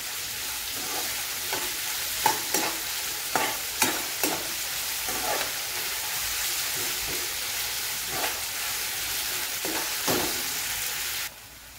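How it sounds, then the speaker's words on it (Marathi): Onions frying over a high gas flame for Marathwada-style umbar handi, a constant loud sizzle close by, with a spoon or spatula scraping and tapping the pan every second or so, with no talk. "गॅस आपल्याला मोठा ठेवायचा कांद्याच्या वेळेस, म्हणजे ते लवकर भाजले जातील"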